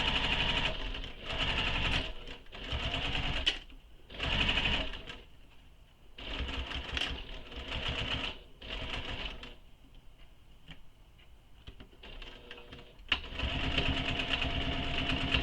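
A sewing machine stitches a shoulder bag seam in several bursts of fast, loud needle runs separated by short pauses, with a final stretch running steadily to the end.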